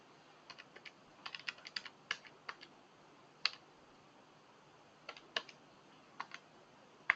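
Calculator keys pressed one at a time to enter a binary number, a scattered series of small, close, quiet clicks with irregular gaps and no talk.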